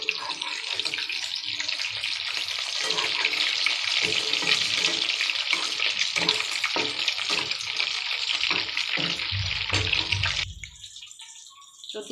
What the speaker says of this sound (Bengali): তো মাংসটা ভাজা হতে হতে